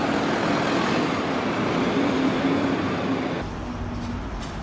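An HST diesel train idles at platform 2 of Glasgow Queen Street station, a heavy, steady engine rumble that fills the station hall, then drops a little toward the end.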